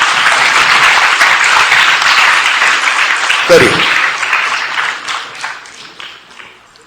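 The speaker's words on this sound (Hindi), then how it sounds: "ये तालियां बजाइए, खुद के लिए बजाइए" An audience at a results and certificate ceremony for a Bait Bazi poetry competition in Aurangabad, India, breaks into loud, steady applause that tapers off, with someone speaking over it.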